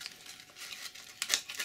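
Sandpaper crinkles softly as it is folded and pressed around a metal bolt, a brief papery rustle with a sharper crackle toward the end.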